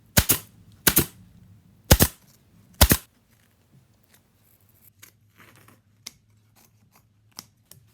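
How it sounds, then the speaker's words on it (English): Staple gun driving staples through fabric onto a dining chair with a cardboard strip edge, four sharp loud snaps in quick succession followed by fainter scattered clicks and taps. "Get your cardboard strip so that it has a nice edge to follow, and you staple it on."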